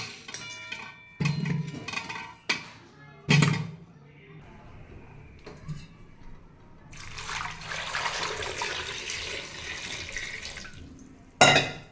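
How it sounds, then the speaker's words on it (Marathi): Running water splashes from a tap in a long, steady rush as potatoes are washed in the sink, broken by several sharp knocks and clunks of the potatoes being handled. "स्वच्छ धुवून घेतले दोन पाण्याने बटाटे"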